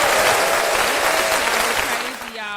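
Audience applauding a podcast, with dense, steady clapping and some crowd noise that fades slightly near the end while a voice begins speaking.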